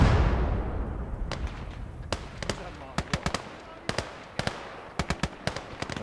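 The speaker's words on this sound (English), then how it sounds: "We've got the mortar team and the infantry gun working away." A mortar team and an infantry gun fire in the World War II strategy game Call to Arms: Gates of Hell, in a Finnish campaign: irregular sharp cracks and thuds, some in quick pairs, over a rumbling battle backdrop with someone talking.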